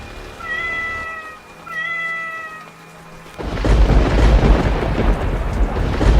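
A cat gives two drawn-out meows, then a loud rumbling crash like thunder rolls in and continues.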